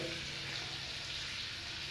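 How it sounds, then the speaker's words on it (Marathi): Crushed peanut powder roasts in a pan, giving a faint, steady sizzle and soft crackle that continues evenly with no talk. "शेंगदाण्याचं कूट पण लगेच टाकायचं म्हणजे ती पण भाजतं"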